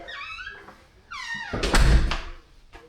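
Front door of a townhome swinging open, with a soft latch click and creak followed by a louder thump and rattle as it moves, close and fairly loud, with some faint tonal squeaks just before.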